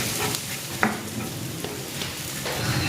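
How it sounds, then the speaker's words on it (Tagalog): Garlic sautéing in a pan, a continuous close sizzle and crackle with occasional light spatula scrapes and one brief knock, no talking. "Magigisa na ako ng bawang."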